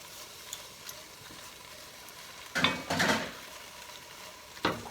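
Leeks cook in olive oil in a soup pot, mostly a faint low sizzle, broken by a few short bursts of stirring and scraping, close by and quiet.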